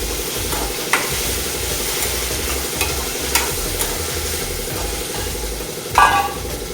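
Chopped tomato pieces sizzle in a frying pan with a continuous close hiss, a few sharp knocks or scrapes, and a louder clatter near the end, over a steady low mechanical hum, with no talking.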